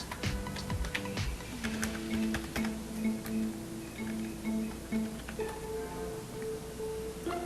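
Fingers tap out a password on a computer keyboard for an online banking login, a quick irregular run of soft key clicks close by, with a faint steady tonal hum underneath.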